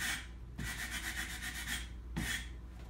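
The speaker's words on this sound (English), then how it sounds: "this is like 240 grit sandpaper on my block. And I just go around the edge" A 240-grit sandpaper block rubs along the edge of a stand-up paddle board in long, steady back-and-forth strokes, with a short pause before a final stroke, close and fairly loud with no talk.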